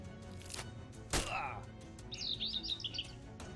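Bird companion in the game Shadows Over Loathing chirping, a quick string of bright, twittering notes in the second half, fairly faint over a low background hum after a brief sharp click.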